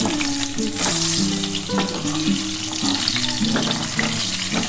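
Potatoes frying to a reddish brown in hot oil for a Sunday goat meat curry give off a steady, dense sizzle, with a few sharper spatters and a faint tonal hum running underneath.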